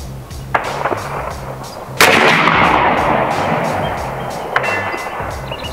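Heavy reports from an AEA Zeus .72 caliber big-bore air rifle fired at a target stand outdoors, with two loud sharp cracks and a louder boom in between, each trailing off in a long rumbling decay.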